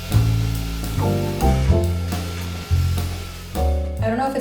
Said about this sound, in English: I'm just gonna go through with my vacuum first to just get all the dust off